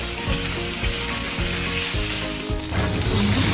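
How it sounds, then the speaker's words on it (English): Spinach stir-frying in hot oil in a pan, a loud, steady sizzle with periodic scraping stirs, close and alone without talk. "Then, stir-fry the spinach for 3 minutes."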